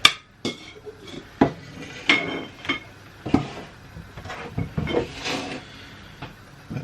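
A bowl and assorted kitchenware for pickling gherkins are set down and moved aside with a series of sharp ceramic and metal clatters, knocks and clinks, close and irregular, with no one talking.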